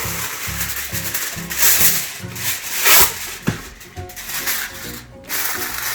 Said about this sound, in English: So we'll just wrap it with this aluminum foil.